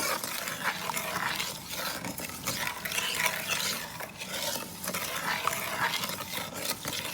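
Mango pickle pieces are stirred together with salt, turmeric and chilli, giving a continuous wet, gritty rustling and squelching close by, with no talking.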